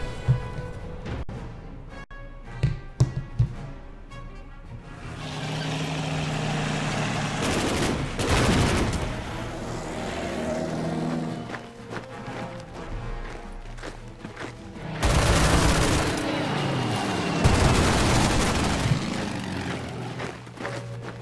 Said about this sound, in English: So fire some mortars in there.